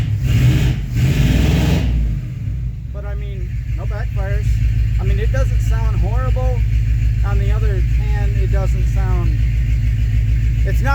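A 1985 K20 truck with a thick muffler, its engine rumbling loudly at the start and then settling into a steady deep idle close by while someone talks over it.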